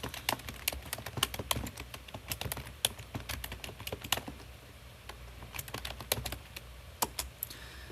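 Typing a search query on a computer keyboard, with rapid irregular key clicks in steady bursts that pause briefly midway, close and moderately loud with no talk.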